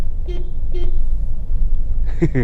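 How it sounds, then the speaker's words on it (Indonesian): Two short, thin car horn toots sound a half second apart over a steady engine rumble, followed by a brief burst of noise. "Walaupun saya jarang memencet klakson ini"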